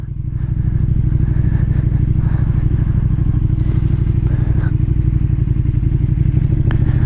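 A 2020 KTM motorcycle engine running steadily while riding, a loud, continuous throaty drone with a slight low-RPM shudder, close and constant throughout.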